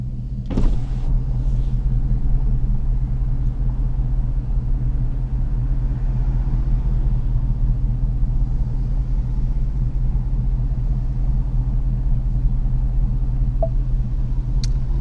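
A 2019 Ford Mustang GT Premium with a Corsa Xtreme cat-back exhaust idles and cruises with a steady, deep low rumble and droning exhaust tone heard from inside the cabin, unbroken by talk.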